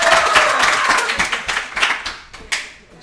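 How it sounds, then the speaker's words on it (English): An audience applauds a boys volleyball head coach and player at a restaurant gathering: a burst of close, lively clapping that thins into scattered claps as it fades out. "Please give Coach and Jack a round of applause."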